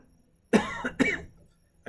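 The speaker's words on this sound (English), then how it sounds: "turned the speaker off before I coughed" A person coughs twice in quick succession, close and fairly loud, during a physics lesson with no other sound around the coughs.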